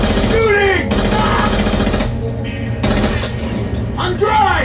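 Bursts of automatic gunfire in a shooting video game, loud and close, arriving in several rapid clusters over about five seconds, with background game sounds and players talking over them.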